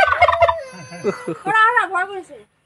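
A turkey on a farm gobbles loudly and close, a rapid warbling burst followed by a second rising, wavering call.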